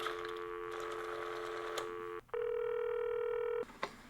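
A telephone is dialed: steady touch-tone beeps sound in two long sustained tones, with a short gap between them and a brief click afterward, clear and close with no voices.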